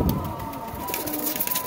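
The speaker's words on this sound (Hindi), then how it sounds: "ये देखें जी माशाल्लाह टैडी कबूतर के।" Teddy pigeons coo close by in a loft, soft low murmurs over a steady background hum and scattered clicks of movement.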